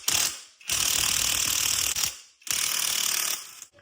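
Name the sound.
ratchet turning a nut onto a CV axle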